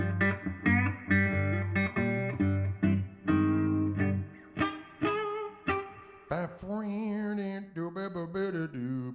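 Electric guitar captured through an M-Audio microphone together with a Shure SM57, playing loud plucked notes and chords with clear sustained tones and a few bent, wavering phrases toward the end.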